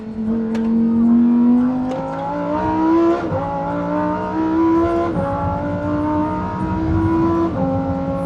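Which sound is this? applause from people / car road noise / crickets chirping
car road noise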